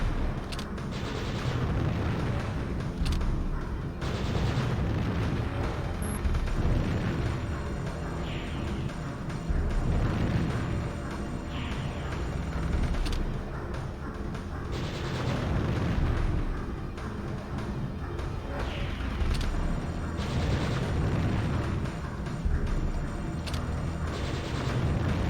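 Repeated blasts and shots while firing at enemies in the Panzer Dragoon Saga video game, a busy stream of explosions and bursts rising and falling over about twenty-five seconds amid game noise.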